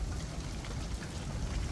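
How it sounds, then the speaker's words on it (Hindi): Rain falls steadily over a cloudy sky near the historic Cave of Thawr, a soft, continuous wash of drops heard at moderate distance with no voices. "बिल्कुल चल रहा है, बादल चल रहे हैं और बारिश हो रही है।"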